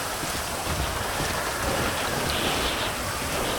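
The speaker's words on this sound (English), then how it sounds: "Rainy day on the boat." Rain falls steadily and heavily on a boat in GTA Online, a dense, constant hiss and patter close by with no pauses and no voices.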